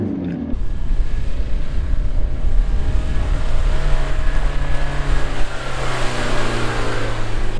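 A four-wheel drive vehicle climbing sand dunes in low range second gear, its engine droning steadily and loud from start to finish with rising strain and a low rumble, no voices heard.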